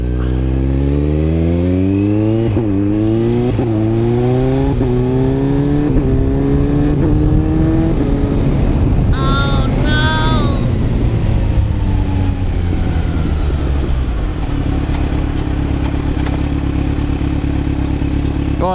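A Kawasaki Z900 fitted with a quick shifter rides hard and loud, engine note climbing through the gears with sharp, clean pitch drops at each clutchless upshift, steady close-up roar throughout and no talking.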